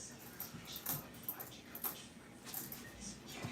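A puppy makes soft, intermittent whimpers and yips at low volume against faint room noise, with occasional clicks and rustles.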